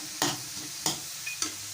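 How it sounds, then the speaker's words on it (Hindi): Onions frying lightly in a karahi for a black pepper chicken karahi, with a steady soft sizzle broken by three distinct stirring scrapes spaced about half a second apart, close and moderately quiet. "तो अब कढ़ाई के अंदर हम शामिल कर देंगे प्याज।"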